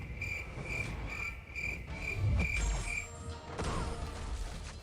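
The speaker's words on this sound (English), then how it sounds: "Crickets, my friend." Crickets chirp as a sound effect in steady, evenly spaced pulses at moderate level, set against a low background bed with a faint thud partway through.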